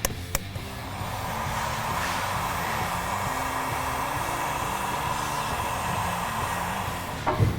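A heat gun blows a continuous, fairly loud whooshing roar while shrinking fabric heat-shrink tubing over the intake sensor cable of a 2017-2019 Ford Powerstroke, framed by brief clicks and handling knocks at the start and end.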